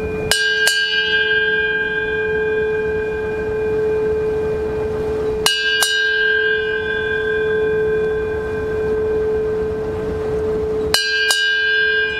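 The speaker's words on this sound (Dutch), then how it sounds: "voordat ik met de verstrooiing begin, ga ik eerst de bel luiden" A bell aboard a lifeboat at sea rings in three separate bursts several seconds apart, each a quick double clang, over a steady low droning hum throughout.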